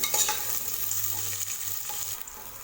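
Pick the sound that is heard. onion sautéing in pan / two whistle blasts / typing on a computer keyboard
onion sautéing in pan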